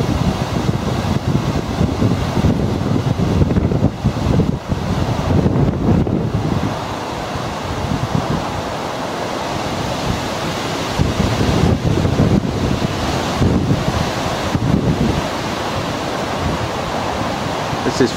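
Strong gusty wind roars over a lake during Storm Callum, with a continuous wash of waves and heavy wind buffeting on the microphone that swells and eases throughout.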